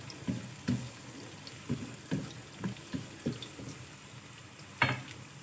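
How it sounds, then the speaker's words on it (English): Food sautéing in a frying pan, with a soft steady sizzle under a series of light, regular stirring taps and scrapes, close and fairly quiet. "let's continue to saute this for another couple of minutes"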